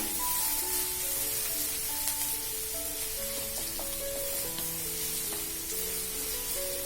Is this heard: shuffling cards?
no